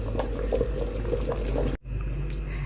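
Pot of nihari stew simmering on the stove, a steady close bubbling and soft liquid churn with small pops, briefly cut off near the end before resuming.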